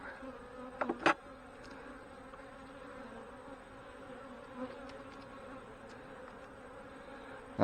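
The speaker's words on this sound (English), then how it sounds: "This is where the majority of the bees are holding out." Honey bees hum around an open hive during a fireweed honey harvest, a steady soft drone throughout with a couple of brief knocks near the start.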